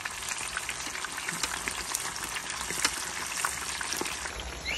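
Chicken frying in hot oil in a small kadhai, in a Pakistani village kitchen, a continuous dense crackling sizzle with occasional pops and stirring scrapes, close and steady throughout.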